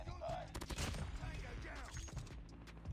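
Rapid suppressed bursts from an AS Val rifle in Call of Duty Mobile crackle loudly and continuously, overlapping with in-game effects and some voice across the stretch.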